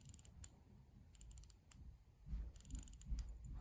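Winding a Croton chronograph watch movement produces faint, close ticking ratchet clicks in short bursts, with quiet handling rustle in between and no speech.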